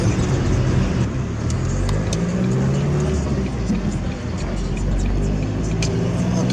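Interior drone of a Ford Focus being driven, a steady low engine and road rumble throughout with people talking over it.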